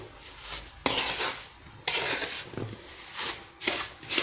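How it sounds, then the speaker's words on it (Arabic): A spoon stirs semolina with dates and melting butter in a pot for Tunisian rfissa, giving a series of scraping, rubbing strokes in uneven bursts, close up and without speech. "نبقى نخلط غير بالعقل، ما تقلقيش حتى يدخل وهذيك الزبده تذوب"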